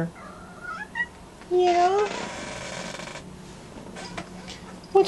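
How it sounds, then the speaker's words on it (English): A kitten meows in a clear, rising cry, with a person speaking briefly nearby and some clatter around the call. "What is wrong with the little cat?"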